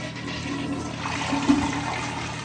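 A Penguin 1.28-gallon toilet in a hotel bathroom flushes with a steady rushing swirl of water, close and even, peaking briefly in the middle before settling.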